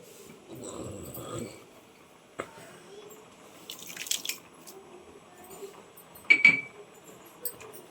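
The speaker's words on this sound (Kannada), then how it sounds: "ನೋಡಿ ಚೆನ್ನಾಗಿ ಕುದಿ ಬರ್ತಾ ಇದೆ" A pot of chicken biryani mixture boils, giving soft, irregular bubbling and popping close by with occasional sharper blips.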